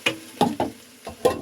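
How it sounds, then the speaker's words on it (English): Corn, broccoli and green onion hit a hot pan, stirred and tossed in about five distinct scraping, sizzling strokes at an uneven pace, close and clear with no voices. "put in our corn, broccoli, and green onion."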